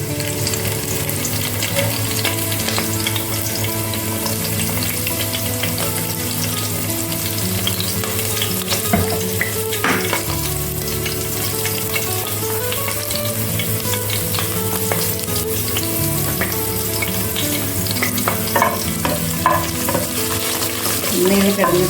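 Green chillies fry in hot oil in a home kitchen, a steady close sizzle that runs the whole time with occasional stirring scrapes, no voices.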